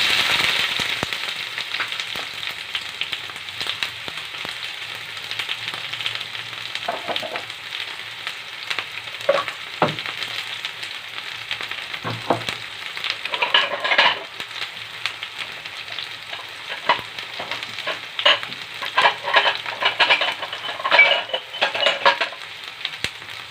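Sliced onion and strips of chicken breast sizzle steadily in a hot pan for shawarma, a continuous close frying hiss with occasional crackles, pops and stirring scrapes, no voices.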